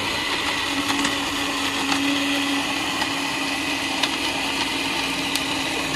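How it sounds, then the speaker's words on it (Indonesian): A blender whirs continuously while blending ice, water and cappuccino mix for an iced cappuccino drink at a street stall, loud and steady with a bright motor whine throughout. "Sekarang tinggal proses blender."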